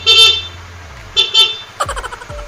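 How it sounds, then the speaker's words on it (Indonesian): A 2018 Honda CBR motorcycle horn gives three short, bright honks close to the microphone: one, a pause, then two quick ones. Low knocks and clatter follow. "Klakson."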